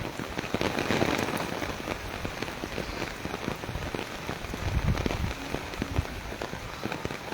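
Heavy torrential rain pours down in Taunsa Sharif, a dense, steady hiss of drops drumming on surfaces close by, with occasional heavier splashes and no voices.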